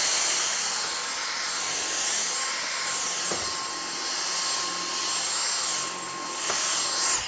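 A Dyson V6 Motorhead cordless vacuum cleaner runs continuously with a loud, high-pitched whine and a steady tone, close by, with slight swells as it moves across the floor.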